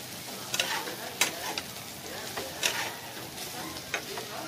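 Food sizzles steadily while frying in a pan and is stirred, with a metal utensil clinking and scraping several times over the constant hiss. No one speaks.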